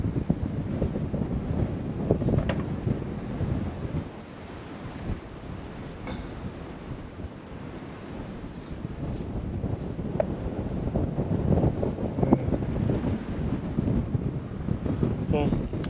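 Strong wind blusters across a clifftop caravan site in North Norfolk, rising and falling in rough gusts with a quieter lull partway through, while someone talks over it.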